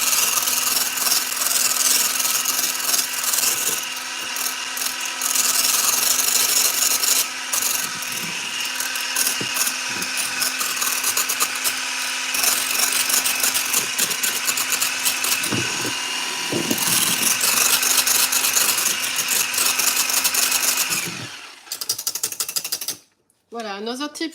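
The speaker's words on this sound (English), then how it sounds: "another tip for you is to not over whisk the egg yolks" Egg yolks for a chocolate-vanilla marble cake are whisked in a bowl with a continuous loud, rapid scraping and clattering that runs for about twenty seconds, then stops abruptly, leaving a few brief knocks.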